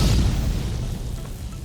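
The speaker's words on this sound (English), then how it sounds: "you discharge, causing this explosion, this shockwave of radiant light" A deep, booming explosion shockwave, imagined as radiant light discharged from a glowing, burning sword, rolls out loud and close as one sustained low rumble that fades slowly, with no talking.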